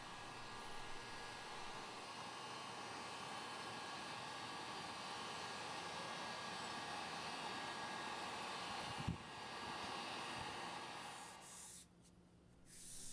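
A heat gun blows steadily while heating old varnish on wood, a continuous airy hiss and whir at low level, with a brief knock near the end before the blower sound dips.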